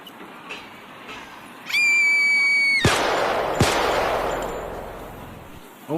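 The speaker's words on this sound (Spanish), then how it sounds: "efecto de sonido de disparo" Gunshot sound effect: a sharp crack followed by a second loud report, with a long noisy rumbling tail and a brief high ringing tone just before, loud and alone with no talk.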